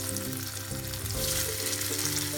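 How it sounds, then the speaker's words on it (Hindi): Potato pieces frying in hot oil for Punjabi-style dum aloo, a steady close sizzle with bright broadband crackle and an underlying low tonal hum throughout, no talking. "हमारा तेल गरम हो गया है। अब इसमें मैं आलू को एक एक करके डाल दूंगी।"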